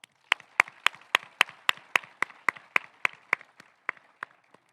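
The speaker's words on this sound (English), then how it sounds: "I'd like to ask for a round of applause for you, my classmates, and for our families and teachers who got us to this moment." At a high school graduation ceremony, a faint run of separate, evenly spaced claps sounds about fifteen times in quick rhythm and then tapers off.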